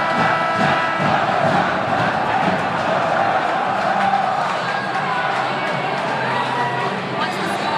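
Large crowd at a Gonzaga high school hockey championship game in Laurel, Maryland, roaring and cheering in a steady, dense wall of noise with voices mixed throughout.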